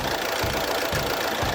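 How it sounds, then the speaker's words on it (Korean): Nissan Qashqai diesel engine running with the bonnet open, heard close up in the engine bay: a steady, loud mechanical drone with an even, regular knock from the pistons and no talk over it. "이게 디젤 차량인데 엔진 소음이 상당히 정숙하고"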